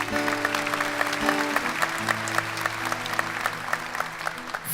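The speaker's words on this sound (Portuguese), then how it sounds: "Vamos aplaudir o Espírito Santo." A congregation at a Catholic Saturday Mass claps steadily together, a dense sustained round of applause with a low organ or hum underneath and no speech.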